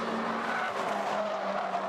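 Race cars at the DeWALT Grand Prix 2021 roar steadily around the track, a dense continuous engine drone with rising and falling tones as a group of four cars battles closely, loud and unbroken with no talk.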